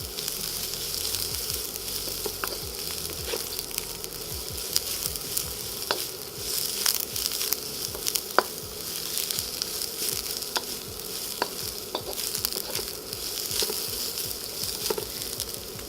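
Cabbage and garlic stir-fry in a pan with soy sauce, giving a steady close sizzle broken by scattered clicks and scrapes of stirring, with no one speaking.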